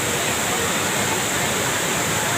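Waterfall at Osam Hill, a loud, steady broadband roar of falling water with no clear voices standing out above it.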